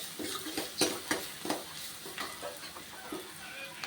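Onions frying in a pan until browned, a steady sizzle broken by regular scraping stirs every half second or so, close and moderately loud with no talking.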